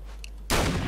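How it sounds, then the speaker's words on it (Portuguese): A single shotgun blast in the video game American Nightmare, an abrupt loud close bang after quiet hum that trails into a dense ringing roar. "Vou mandar um tiro de caçadeira"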